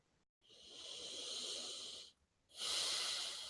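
Long, breathy inhales and exhales taken close to the microphone, two drawn-out hissing breaths split by a short pause, with no talking.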